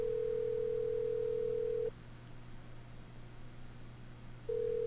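An office phone in a horror video game sounds its dial tone: a steady, clear tone that holds for about two seconds, cuts out, then returns near the end over a low background hum.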